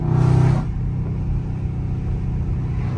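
Loud Dodge Scat Pack V8 engine roaring as the gas is floored, a sharp high rev burst for about half a second that drops into a heavy, steady low rumble inside the car.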